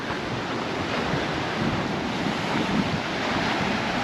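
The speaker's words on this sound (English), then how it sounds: "sea smashing against the rocks" Sea waves crashing against rocky shoreline at Portals Nous, Mallorca, a constant broad roar of surf mixed with strong wind buffeting the microphone, with no talk over it.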